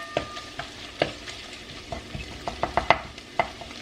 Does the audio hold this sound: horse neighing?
no